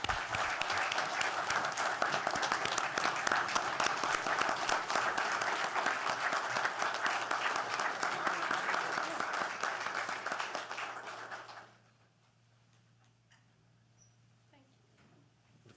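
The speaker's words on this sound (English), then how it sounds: "Big round of applause for Karen Rao" An audience at an Arkansas Game and Fish Commission meeting gives a sustained round of applause for about eleven seconds, then it cuts off abruptly into near silence with a low steady hum.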